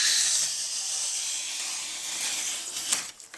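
A utility knife slices down the side of an unassembled wooden beehive super resting on cardboard, a close, steady hissing scrape that ends in a few brief rough scratches.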